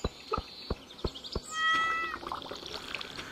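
A cat in Stardew Valley gives one clear, close meow after a run of light, evenly spaced taps, with soft game sounds continuing afterward.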